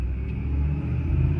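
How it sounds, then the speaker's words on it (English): A noisy GMC truck engine runs at idle close by, a loud, steady low rumble with a faint rough pulsing and no break across the short stretch. "It's a noisy truck."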